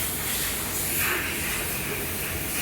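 A cleaner is sprayed onto an aluminium door closer, giving a broad hissing spray that swells briefly and fades against a steady noisy background, close and without talk.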